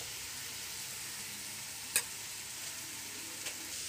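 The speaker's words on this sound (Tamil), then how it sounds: "இது கொஞ்சம் நல்லா ஃப்ரை ஆகட்டும்" Onion and shredded cabbage fry in a hot pan for Schezwan fried rice, giving a steady soft sizzle with a sharp clink of a utensil midway and another faint tap near the end.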